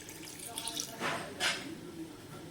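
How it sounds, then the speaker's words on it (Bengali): Water poured from a vessel into rice for chicken pulao, a soft splashing gush that swells twice, close by with faint background noise. "চালের মাপ অনুযায়ী জল দিয়ে দিচ্ছি।"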